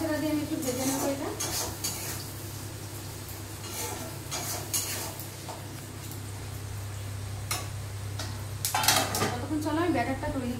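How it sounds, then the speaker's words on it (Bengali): Chili chicken fries in a pan, a constant low sizzle broken by repeated spatula scrapes and clanks against the metal as it is stirred, close and fairly loud, with a low hum underneath. "আবার একটু নাড়াচাড়া দিয়ে আমি একটু ভেজে নেবো এটা।"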